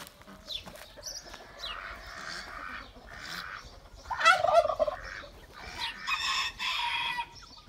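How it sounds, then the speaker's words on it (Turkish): A Denizli rooster crows among chickens in a coop, with a long, loud crowing call near the middle, plus scattered clucks and fowl calls before and after it, close by. "Bakın, denizli horozum."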